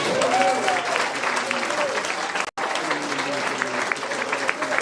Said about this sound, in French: On applaudit le Seigneur pour ça.